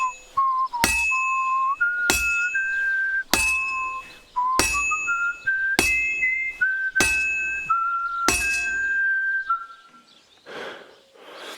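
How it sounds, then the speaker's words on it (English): Whistled notes carry a tune in a video game, broken by sharp clinking blacksmith hammer strikes on a heated workpiece roughly every second, with the whistling wavering in pitch between blows. "I think I need to get used to the whistling."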